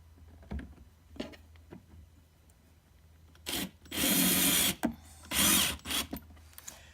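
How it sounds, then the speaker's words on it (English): Screws are driven into the wood of a mini arcade cabinet with a power driver: soft handling taps, then two short whirring bursts and a few brief blips near the end, close by. "Pop the screws in."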